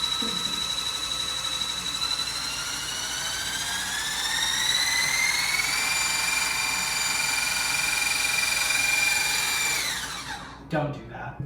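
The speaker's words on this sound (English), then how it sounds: "I want to whisk for a while." An electric mixer whirs loudly while whisking cake batter, its motor whine holding steady and rising in pitch partway through, then spinning down and stopping near the end, followed by a few faint clatters.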